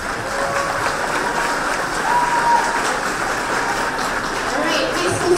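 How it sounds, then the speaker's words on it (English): An audience at a student technology festival breaks into a full, steady round of clapping, loud and continuous with faint voices mixed into the crowd. "Let's give them a big round of applause."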